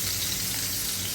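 Fish and potatoes frying in a pan, a steady broadband sizzle throughout a brief moment, close and moderately loud with no talk.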